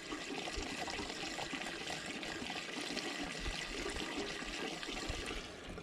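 Liquid pouring into the tank of a Woodland Mills HM130 sawmill, a continuous close gurgling and splashing stream that holds steady throughout, with no one speaking.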